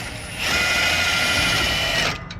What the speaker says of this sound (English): Place it right there and hit it with an impact gun again